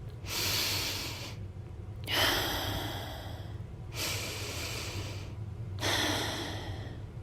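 Four long, deep breaths from a guided breathing exercise, each airy rush lasting about a second and a half with short pauses between, close to the mic, with a steady low hum underneath and no talking.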